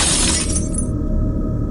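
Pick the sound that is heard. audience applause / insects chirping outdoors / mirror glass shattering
mirror glass shattering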